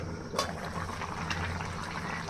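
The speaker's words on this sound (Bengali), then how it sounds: "দেখুন তরকারিটা বলক চলে এসেছে" Pumpkin and prawn curry boiling in a covered pot on the stove, a steady bubbling simmer with a low hum underneath and one brief clink near the start.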